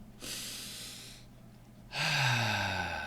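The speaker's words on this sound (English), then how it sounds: "Just 3 deep breaths in through the nose and out through the mouth." Slow deep breathing during a relaxation exercise, a long breath drawn in through the nose, a pause, then a fuller, louder exhale through the mouth, close and alone.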